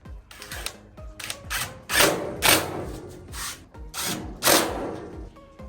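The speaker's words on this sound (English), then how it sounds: "And those are tightened down." Bolts tightened while assembling a Monument gas grill, with bursts of a whirring power driver mixed with metallic thumps and clinks from the grill frame, close and uneven, no speech.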